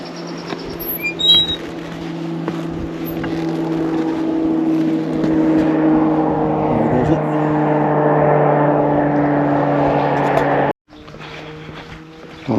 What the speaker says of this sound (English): I still hear the jet fighters coming up the valley, even this far down.